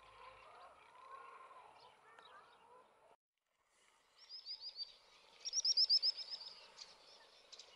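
Birds call at a wetland early in the morning, giving soft, distant twitters. Later come brighter, repeated high chirps in quick rhythmic bursts. The scene is quiet outdoors and no one is talking.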